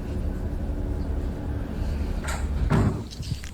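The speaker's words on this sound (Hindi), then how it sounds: "ऐसा लगा किसी ने डोर लगाया, यही वाला डोर।" Door being shut in a dim room, a brief thud rising out of steady low background rumble near the end, with a fainter knock just before it and no talk.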